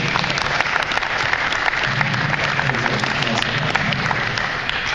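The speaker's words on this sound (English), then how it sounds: "Round of applause for these guys." Audience applause after an on-court session at a tennis conference, steady clapping that is fairly loud and close with sharp individual claps, and a low voice murmuring underneath.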